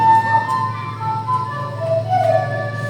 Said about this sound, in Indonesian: Tuh, jawabannya suara seruling.